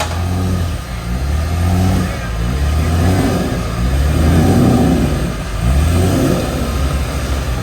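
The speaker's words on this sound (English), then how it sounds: "Get him spinning, Andy." A car engine revs hard and repeatedly at close range while its wheels spin, a loud droning roar that surges and eases in waves throughout, with voices shouting over it.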